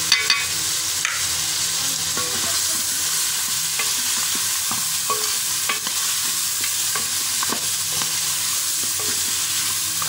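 Meat frying with ground coriander, cumin and black pepper powder, a loud, steady sizzle with frequent scraping stir strokes running throughout, close and without talk.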